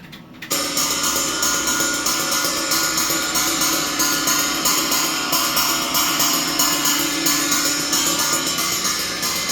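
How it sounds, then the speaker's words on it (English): Bright, washy cymbal pattern with a trashy china and ringing ride in a 5/16 over 4/4 polyrhythm, struck in a steady repeating rhythm that keeps a dense shimmer going throughout. "but between two cymbals, a china and a ride."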